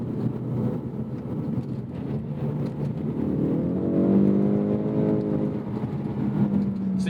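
Ford Mustang EcoBoost in track mode with traction control off, its engine note piped into the cabin: a steady droning hum that rises in pitch as it accelerates, continuous and fairly loud.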